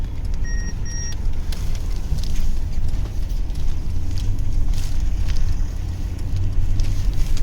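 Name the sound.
Mercedes GLS 580 engine accelerating in sport mode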